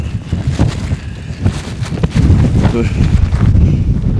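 Strong wind on an exposed high-altitude mountainside roars and buffets the microphone in a steady, loud broadband rush with low gusting rumble that swells stronger in the second half.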